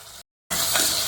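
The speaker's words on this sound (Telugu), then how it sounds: "ఆనియన్స్ అనేది బ్రౌన్ కలర్లో వచ్చేదాకా ఫ్రై చేసుకుందామండి సిమ్లో పెట్టుకొని" Onions, green chilies and curry leaves fry in a pan on low heat for gongura chicken curry, giving a broad, close sizzling hiss that cuts out briefly and then returns stronger.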